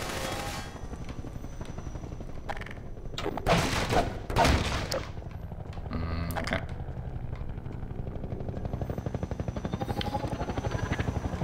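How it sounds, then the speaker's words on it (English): A Combine helicopter in Half-Life 2 thunders overhead with loud bursts of rapid gunfire, a dense rattling fusillade peaking mid-clip over a constant rotor drone; no speech. "Damn helicopter."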